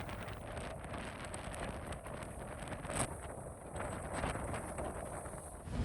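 Strong wind buffets the microphone on an exposed beach, a steady loud roar with gusts swelling around the middle and end, no voices.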